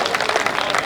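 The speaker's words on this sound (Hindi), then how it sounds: "जोरदार तालियां बजाकर स्वागत कीजिए" Dense, steady clapping from a crowd welcoming a poet onto the stage at a Hindi kavi sammelan, a brief full burst of applause.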